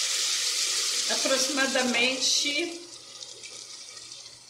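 About half a litre of water pours into a cooking pot of seasoned meat for soup, with paprika, black pepper and colorau. A close, bright rushing splash sounds under a spoken word, then fades to a softer trickle.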